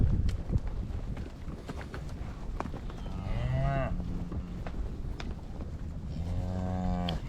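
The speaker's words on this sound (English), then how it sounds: "Got some straggling cows coming in from way back still." Straggling cattle coming in from a far pasture on a ranch moo in two long, drawn-out calls at moderate distance over steady wind and faint background noise.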